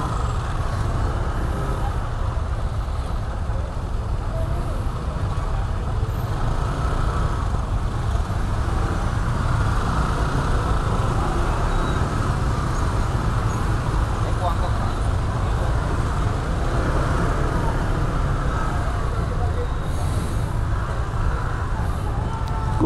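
Heavy night traffic crawls through a jam in Seminyak, Bali, on New Year's Eve: a steady, dense roar of car and motorbike engines fills the whole stretch, with people talking over it.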